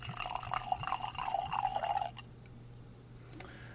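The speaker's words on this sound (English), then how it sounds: "So, let me get this opened up. And give it a little pour." Sake poured from a freshly opened bottle into a glass: a steady trickling stream with bright splashy ripples for about two seconds, then it stops, leaving a quiet room with a faint low hum.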